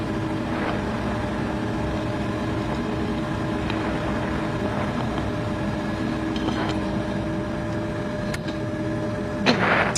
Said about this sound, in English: Engine's good to go. All started up.